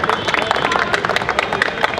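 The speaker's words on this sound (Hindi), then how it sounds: "ताली बजा सकते हैं आप लोग।" An audience at a Holi comedy gathering claps steadily, a dense patter of many hands at moderate volume throughout, with a little crowd murmur beneath.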